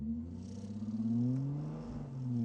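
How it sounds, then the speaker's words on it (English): A car shudders with a heavy low vibration, a deep rumbling drone that throbs and swells, then dips briefly before returning, fairly close with no talk. "Whole car's vibrating."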